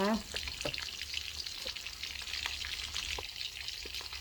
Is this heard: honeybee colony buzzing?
no